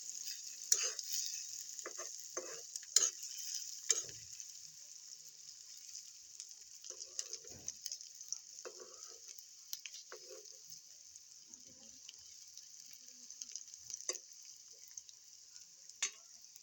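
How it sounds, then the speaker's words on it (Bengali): Chopped onion frying in a pan, stirred and turned, a faint steady hiss of sizzling oil with scattered soft taps and scrapes of a spatula throughout, quiet and close. "পেঁয়াজটাকে ভালো করে নেড়ে চেড়ে ভেজে নেব।"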